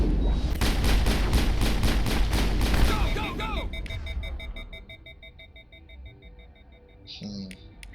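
Rapid shotgun fire in the Mass Effect video game, a dense string of loud repeated blasts at close range that gives way to beeping tones and fading game noise.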